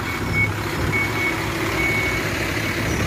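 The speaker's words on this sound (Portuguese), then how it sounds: "Olha o caminhão chegando." A truck pulls into a parking spot, its reversing alarm beeping steadily over a low, continuous engine rumble, fairly close.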